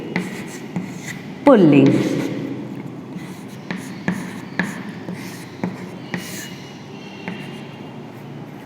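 Chalk or marker scratching on a classroom board during a Hindi grammar lesson for fifth graders, with short taps and strokes at a steady pace, close and clear, as a teacher speaks over it.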